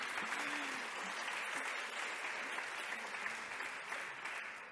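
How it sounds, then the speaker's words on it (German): Steady, fairly distant applause from an audience at the opening of an antiracist assembly, a dense even patter of many hands lasting throughout, with a brief voice heard early on. "Nochmal Applaus"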